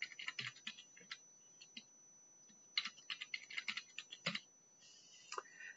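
Rapid clicking of keys as a password is typed on a computer keyboard, quiet and close, in irregular bursts with short pauses, no voices.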